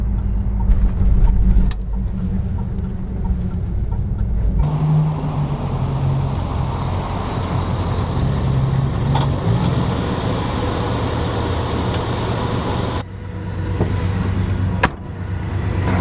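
A 1965 Chevy Impala's engine drones steadily while driving, a loud low rumble with road noise and brief bumps and shifts in tone.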